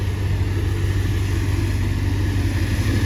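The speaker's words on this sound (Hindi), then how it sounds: "ट्रैक्टरमे थ्रेसर लागल छै और थ्रेसर से कुटा रहल छै।" Tractor-driven wheat threshing machine at work in a village field, a loud, steady, close engine drone with a constant mechanical rumble and no pause.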